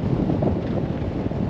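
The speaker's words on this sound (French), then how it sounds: "Donc désolé pour le vent." Strong wind buffets the microphone outdoors, a steady, loud roar of rumbling gusts that fills the whole moment with no voices.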